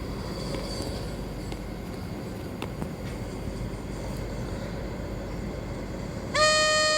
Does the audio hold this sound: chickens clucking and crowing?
no